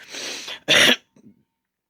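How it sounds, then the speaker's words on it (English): A person coughs twice up close, a rough hacking cough followed by a sharper burst, then a faint breath. "I'm still coughing"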